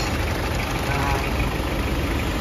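Intercooler blower motor running beneath a vehicle with a D4BH engine, a steady, loud whirring drone with an engine idling behind it, close and unbroken.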